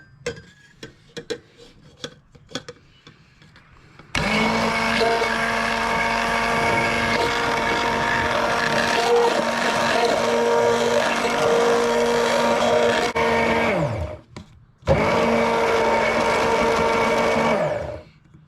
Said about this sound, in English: Now the first thing I'm going to do is just give my egg yolks a little bit of a whisk